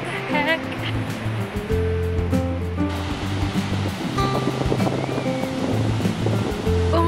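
Pacific Ocean waves break on a beach with a constant washing roar and some wind noise, heard beneath a person talking excitedly over them.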